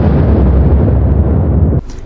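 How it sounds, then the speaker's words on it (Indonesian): A big explosion sound effect evoking the Big Bang: a loud, deep, continuous roar with no distinct separate blasts, sustained for almost two seconds before cutting off abruptly into near quiet. "ledakan besar yang muncul begitu saja"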